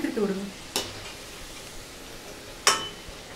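Vada fry in hot oil and are turned now and then, with a soft, steady sizzle and two sharp clicks of a utensil against the pan, close by. A brief voice sounds at the start.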